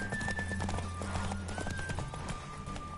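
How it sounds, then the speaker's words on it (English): Horse hooves clip-clop at a steady trotting rhythm in The Witcher 3, even and moderately quiet, with a soft sustained tonal background running underneath the hoofbeats throughout. "Kimélem a lovat csak."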